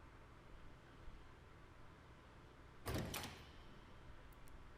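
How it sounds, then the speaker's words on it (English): A door in the visual novel Tsukihime closes with a single short click-and-thud, moderately loud over a steady low hiss, with quiet background noise before and after. "Faintly, I can make out the click of the door."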